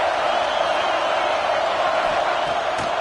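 Stadium crowd in the college football video game NCAA 26 roaring steadily and loudly, a continuous wash of cheering with occasional whoops and a faint voice under it.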